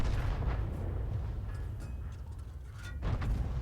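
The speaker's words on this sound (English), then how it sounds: "Just firing blind now." Booming shots from a Crusader 5.5-inch self-propelled artillery gun in a video game, heavy low rumble with mechanical clanks and two louder blasts near the start and end.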